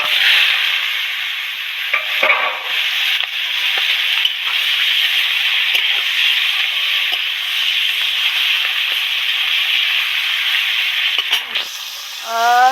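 Live prawns hit hot oil for a Bengali prawn curry, a loud, steady, bright frying hiss that sustains for several seconds with occasional crackles and pops, close-up and without speech.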